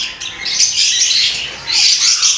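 Large macaw giving harsh, raspy squawks in two loud bursts close by, with no talk over it.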